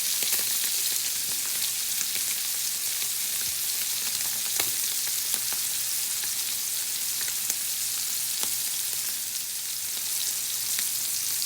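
Scallops sear in browning butter over medium-high heat, a steady close crackling sizzle with scattered sharp pops throughout, no talk.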